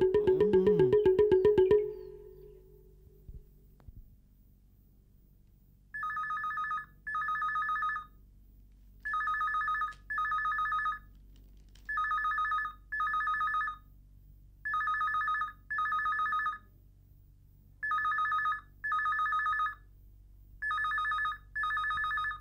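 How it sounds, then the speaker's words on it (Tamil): A telephone bell rings on and on in regular double bursts with short pauses between, clear and close after a brief loud musical sting at the start, in a Tamil TV serial scene. "ஃபோன் பெல்லு இவ்வளோ நேரம் அடிச்சுட்டு இருக்கு, எடுத்து யாரும் கேட்கலல்ல?"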